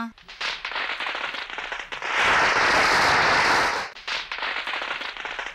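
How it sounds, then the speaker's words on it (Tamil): A long rapid string of firecrackers bursts loudly nearby, crackling densely for a couple of seconds among scattered sharper pops. "இந்த பட்டாசு வெடிக்கிற சத்தத்தை கேட்டுட்டு அந்த குட்டி நாயி எம்புட்டு பயப்படுது பாருங்க"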